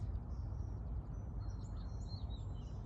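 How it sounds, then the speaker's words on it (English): Birds chirp and sing faintly in an outdoor natural setting, thin high calls drifting in and out over a steady low rumble of wind or background noise. "I can hear the birds."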